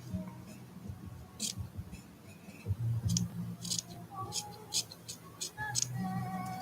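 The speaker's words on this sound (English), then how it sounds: "just going to trim this tiny bit off here" Small scissors snip at an art doll in a few quick cuts amid soft handling clicks, with a voice speaking over part of it.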